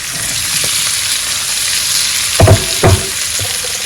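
Boiled potato pieces with chilli, turmeric and crackled cumin frying for khichdi, a constant loud sizzle with two heavier scrapes of stirring near the end.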